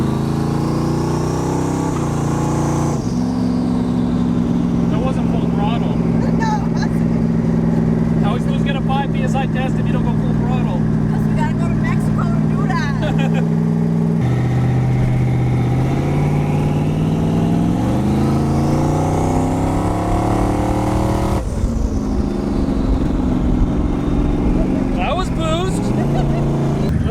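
A twin-turbo Fox Body car engine revs and accelerates in steady sustained surges, its tone rising and falling loudly and close by, with people talking over it.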